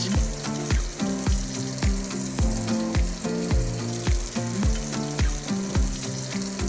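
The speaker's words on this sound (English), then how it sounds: "First we'll sear the beef chunks." Beef chunks sear loudly in a hot pan for chili, a steady crackling sizzle with regular scraping strokes of a utensil every half second or so, close and continuous with no talking.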